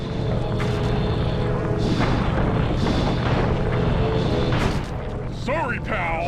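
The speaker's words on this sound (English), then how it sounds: "The R1 button fires your turret." Turret cannon shots in the game Sly 2: Band of Thieves boom out in repeated heavy blasts with rumbling tails, layered over a busy game soundtrack and ongoing voices.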